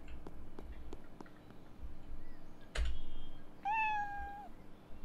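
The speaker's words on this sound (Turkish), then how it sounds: "Ya kedi! Seninle şu an ilgilenemem." A cat meows once in the Internet Cafe Simulator 2 video game, a clear rising-then-held cry near the end, heard alone over a steady hum and faint background clatter.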